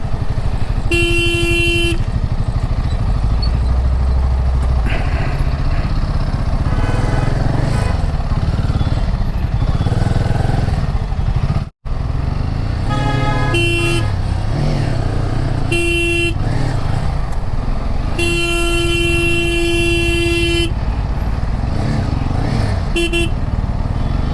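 Long roadside traffic jam on a highway ride from Aligarh toward Ramgarh, Uttarakhand, with car and motorcycle horns honking repeatedly in short and sustained blasts over a constant loud engine and road rumble.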